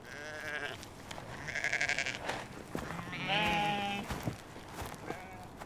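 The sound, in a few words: Highland sheep and lambs bleating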